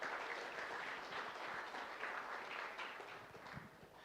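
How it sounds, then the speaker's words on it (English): Applause from the audience at a startup summit, a steady wash of many hands clapping at moderate distance that fades slightly near the end. "Ladies and gentlemen, a big round of applause for him."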